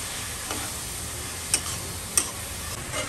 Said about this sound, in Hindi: मसालों को भी भून लेंगे चिकन के साथ